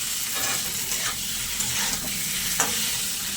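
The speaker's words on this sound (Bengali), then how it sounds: "টমেটো আর আলু আরেকটু নাড়াচাড়া করে নেব" Tomato and potato frying with spices in a pan and being stirred, making a dense, steady sizzle with light scraping movements throughout, near and fairly loud, with no one speaking.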